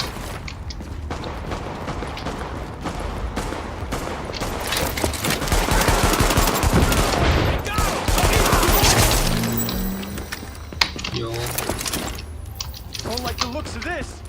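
Dense, continuous automatic gunfire in Tom Clancy's The Division, loud overlapping rapid shots and mechanical clatter, with a voice speaking underneath.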